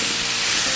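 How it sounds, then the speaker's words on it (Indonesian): Ground chili spice paste sautéing in about three tablespoons of hot oil for spicy eggplant balado, a loud, steady, close sizzle and hiss with no voices. "Saya akan menumis bumbu halusnya yang tadi."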